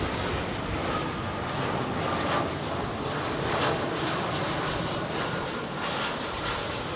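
A jet airliner departs runway 27R at London Heathrow with a loud, continuous engine roar heard close up, steady and broad throughout with only slight swells, with no voices.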